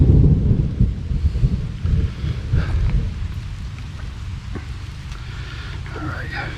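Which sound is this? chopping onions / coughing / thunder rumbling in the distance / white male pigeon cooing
thunder rumbling in the distance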